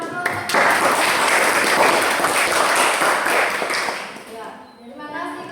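Sustained classroom applause from a group of junior high school students, dense and steady clapping for several seconds before tapering off near the end.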